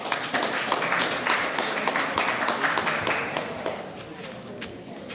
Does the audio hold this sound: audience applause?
yes